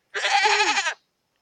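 A goat bleats once in a mobile video game, a single wavering call of just under a second, loud and close, with no talk over it.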